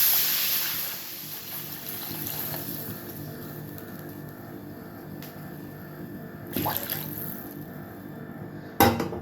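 Water being poured into a pan of besan chapati cooking in a little refined oil gives a soft hiss and gentle splashing, faint and close, with a couple of brief clatters near the end.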